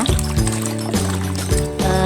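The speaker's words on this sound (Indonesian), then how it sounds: "sekarang kita kocorkan ya." Water poured from a container into the soil of a small potted grape plant, a loud, close, continuous gurgling pour with a steady bubbling and trickling texture throughout.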